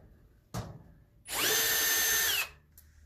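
Power drill whining briefly as it backs screws out of a stove, one sustained high buzz near the middle after a short knock, close and fairly quiet overall.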